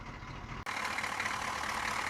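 A 1991 Chevrolet Suburban 1500 4x4 with a naturally aspirated 6.2 liter diesel engine catches and settles into a steady idle, a dense, continuous rumble after a brief dip at the start.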